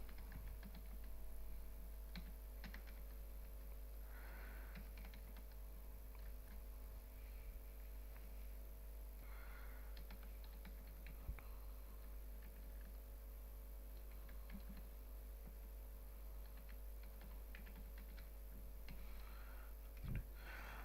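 Someone types item names on a computer keyboard, producing faint, scattered key clicks at irregular intervals under a steady low hum in a quiet room, with no talking.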